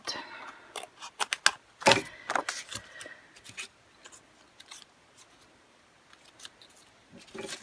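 Scissors snip paper scraps for a handmade birthday card: a quick run of sharp, close cuts in irregular bursts, then a quieter stretch of faint handling sounds.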